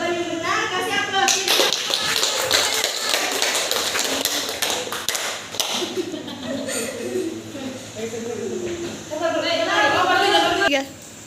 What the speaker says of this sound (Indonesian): Jawaban yang benar kasih aplaus.